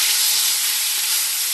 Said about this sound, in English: Y'all are going to listen to this sizzle and it's going to be amazing.